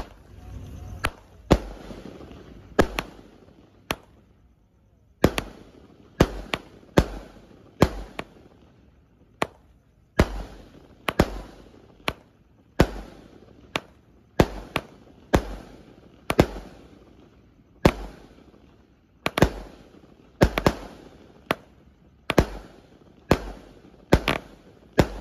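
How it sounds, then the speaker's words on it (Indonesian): A 25-shot box of Roman candle fireworks firing at night, a long series of sharp, loud pops in an irregular rhythm over about twenty-five seconds, with no talking. "di sini ada Roman Candle kotak 25 shot"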